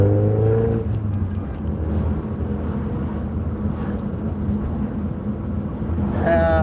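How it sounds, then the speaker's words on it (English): A car drives along a road, heard as a steady low rumble of engine and tyre noise from inside. Brief voice-like tones rise at the very start and end. "sorry, I'm driving."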